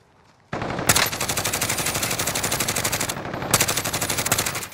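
Sustained automatic gunfire from the Call of Duty Warzone battle royale, loud and close, with rapid rhythmic bursts running nearly continuously for several seconds and a brief pause before firing resumes; no talking over it.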